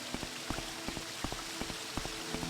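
Running footsteps of a video game character, quick regular soft thuds repeating roughly every third of a second over a steady background hum, moderately faint and with no voices.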